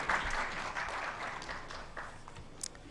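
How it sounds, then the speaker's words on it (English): Conference audience at a women's empowerment event applauds steadily, a dense patter of clapping held at moderate level throughout without talk. "Can I please have a huge round of applause?"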